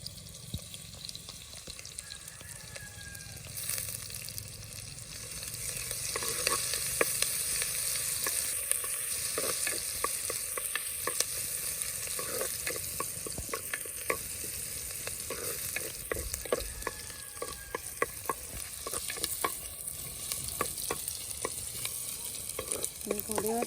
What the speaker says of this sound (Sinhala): ඊට පස්සේ මේකට එකතු කර ගන්නවා තලාගත්ත සුදු ලුණු ටික.